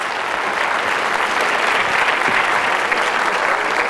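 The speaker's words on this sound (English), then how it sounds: "Round of applause." A high school auditorium crowd at a hypnosis show applauds, giving a dense, continuous wash of clapping that stays loud and even throughout, with no speech over it.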